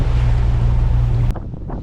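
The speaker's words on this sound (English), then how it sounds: "now we are headed into the wind and waves" Wind and waves on a sailing yacht heading upwind off Soper's Hole, loud buffeting wind over the microphone with rushing water, then a sudden drop into choppier splashes of surf against the hull.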